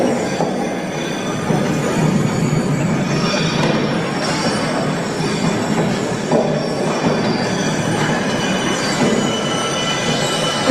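Train wheels squeal against the rails in a steady, loud, continuous screech with a rumbling undertone, running the whole time and holding a fairly constant level, with no talk over it.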